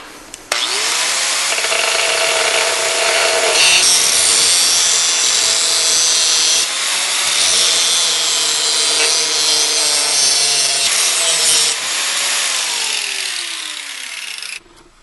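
A power grinder works on a clamped suspension bushing from a Datsun 280Z, a loud continuous abrasive whine that shifts in pitch as the load changes, running about fourteen seconds before winding down.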